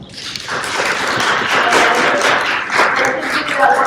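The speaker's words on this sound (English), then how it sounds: "Let's give a warm round of applause." Audience applause at a women's STEAM leadership conference, a loud burst of clapping from the crowd that swells quickly and holds steady for several seconds, with some voices mixed in.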